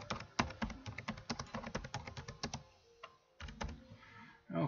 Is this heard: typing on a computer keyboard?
yes